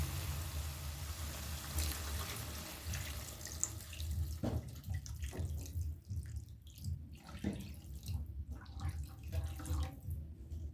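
Two cups of water pour into a pot of cooked tomatoes, a steady splashing gush that thins into lighter trickles and drips, close up with no talking.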